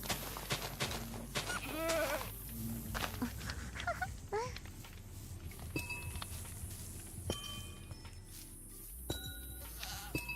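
Bleating from a Minecraft goat comes early as two or three warbling cries, then gives way to quiet game ambience with light tapping and faint chime-like tones.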